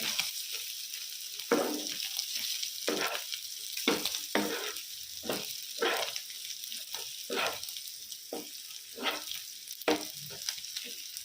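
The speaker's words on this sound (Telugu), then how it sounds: "ఈ మధ్యలో మనం ఇలా చెక్ చేసుకుంటూ కలుపుకుంటూ ఉండడం వల్ల చికెన్ ముక్కలు అనేవి అతుక్కోకుండా ఉంటాయి ప్యాన్కి." Chicken pieces fry in a pan for a chicken fry under a constant low sizzle. Regular scraping strokes cut through it every second or so as a spoon stirs the pieces to keep them from sticking.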